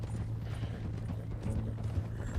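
Horse hooves clatter in Red Dead Redemption 2 as a mount moves along at a steady rhythmic clip-clop, fairly quiet and close, with a low continuous hum beneath and no talking.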